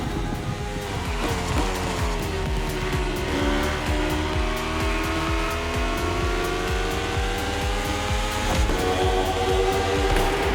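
A rally car in The Crew Motorfest racing game, engine droning steadily through gear changes with rising and falling pitch, loud and continuous throughout with occasional tire noise.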